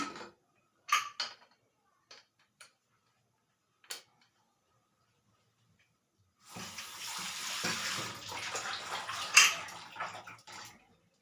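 Water pours steadily into a cooking pot of sambar for several seconds after a few faint clinks and taps, fairly quiet and close.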